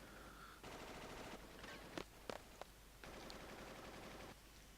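Bursts of gunfire from the Final Fantasy VIII video game: two rattling volleys of rapid automatic fire separated by a few sharp, louder single shots, fairly distant and muffled, with no talk over them.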